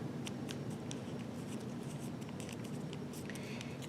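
Origami paper folded by hand for a holiday ornament, soft close crinkling and light taps with scattered paper rustles over a low steady background, no speech.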